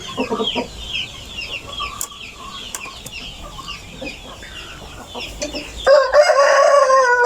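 Chickens cluck and chatter softly in the background on a farm, then a rooster lets out a loud, close crow near the end.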